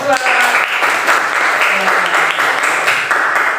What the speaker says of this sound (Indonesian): tepuk tangan buat Mbak Intan kelompok